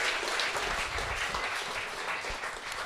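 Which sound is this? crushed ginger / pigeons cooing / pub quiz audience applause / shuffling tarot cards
pub quiz audience applause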